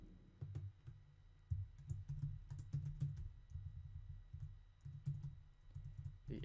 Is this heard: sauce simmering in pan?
no